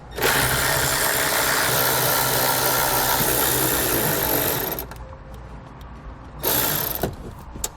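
A ratchet drives out the 8mm nuts holding a taillight on a 2018 vehicle, whirring loudly and steadily for about five seconds, then going quiet before a short second burst.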